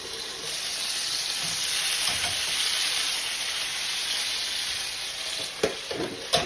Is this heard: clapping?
no